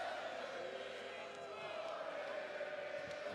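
A wrestling arena crowd at Friday Night SmackDown chants Olés for Sami Zayn, a steady, dense roar of many voices that stays loud throughout.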